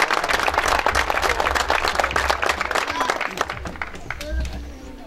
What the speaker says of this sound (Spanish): Vaya para todos ellos un fuerte aplauso como agradecimiento por su buena voluntad